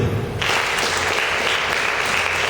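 An audience applauds steadily and loudly at an excellence-day award ceremony in Sokone, a dense, continuous wash of many clapping hands with no voices on top.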